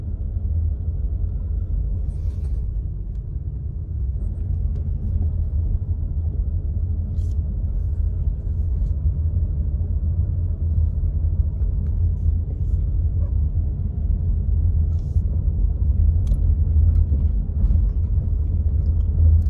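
Steady low rumble of a car driving on a road, leaving a mountain village in Big Bear before a big snowstorm, a constant close engine and road drone with no talk.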